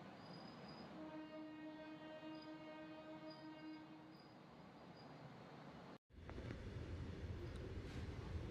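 Hydrogen-powered train on a speed trial, sounding a long sustained horn over rumbling wheels, then a brief cut to louder rolling rail noise.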